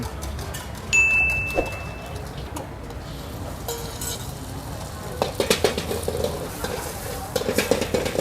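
Fried rice with butter and egg sizzles and is tossed in a wok over high flame, with a metal spatula scraping and clanking in quickening strokes amid a busy street-stall background and a short chime.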